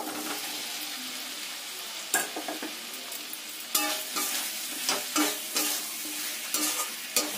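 Potatoes frying with Kashmiri chilli powder and spices in a pan, a soft steady sizzle broken by sharp scraping strokes of a spatula stirring at irregular intervals, close and clear with no talk.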